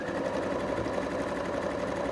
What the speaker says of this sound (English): So first the zigzag around.